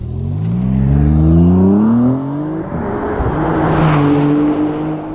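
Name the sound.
Maserati MC20 Cielo engine revving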